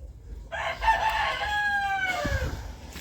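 A single rooster crows nearby, a loud drawn-out call that rises and trails off, with faint clucking around it.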